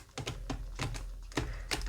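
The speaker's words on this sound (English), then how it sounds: "the cards don't stick. They shuffle so well." A new glossy, plasticky tarot card deck being shuffled, giving a run of quick, sharp riffling clicks in irregular bursts, close and fairly quiet with no talking.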